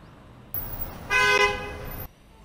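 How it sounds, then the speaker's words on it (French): A harsh, brassy car horn tone plays as a software sound effect, one sustained honk of about a second rising out of a steady background and cutting off cleanly. "Et ils sont vraiment pas beaux, ces klaxons."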